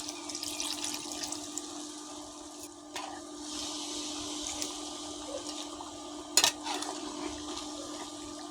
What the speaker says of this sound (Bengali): এখানে আমি পরিমাণ মতো জল দিয়ে দিলাম।